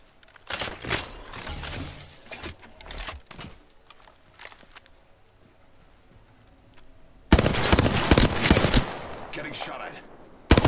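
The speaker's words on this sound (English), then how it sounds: "Getting shot at." Gunfire in the Apex Legends video game: scattered bursts of shots and sharp cracks at first, then a quieter stretch, then a loud, dense rattle of rapid automatic fire that runs to the end.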